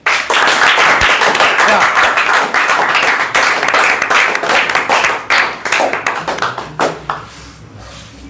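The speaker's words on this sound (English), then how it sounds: "I'll start this activity with a huge clap" A crowd at an English-speaking class claps loudly and continuously for about seven seconds, a dense wash of applause that fades out at the end, with a brief voice heard.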